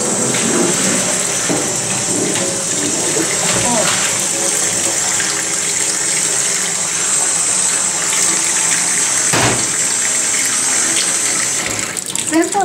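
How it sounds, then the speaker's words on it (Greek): Cooked spaghetti being drained through a strainer, water pouring steadily and continuously at close range for the whole stretch, with a brief louder gush near the end. "Σουρώνουμε τώρα τα μακαρόνια μας."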